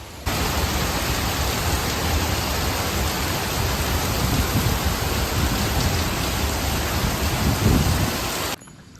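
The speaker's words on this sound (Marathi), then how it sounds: "जरा पाऊस जोरात पाडतंय" Heavy rain pours steadily in Kokan, Maharashtra near Rajapur, a dense continuous roar of drops on surfaces that holds loud and even for about eight seconds before cutting off abruptly.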